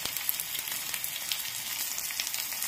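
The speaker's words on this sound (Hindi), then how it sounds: "प्याज को भी गोल्डन ब्राउन होने तक पका" Onions sizzle steadily in hot oil with garlic while being cooked until golden brown for a besan kadhi tadka, a continuous soft crackling hiss without talk.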